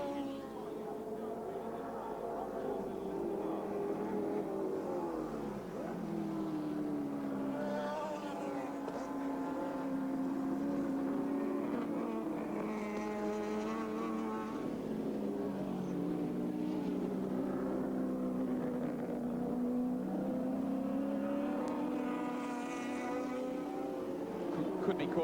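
A 1983 touring car laps Lakeside raceway on a wet track, its engine a rising and falling whine that swells and fades as it passes, heard steadily under a commentator talking.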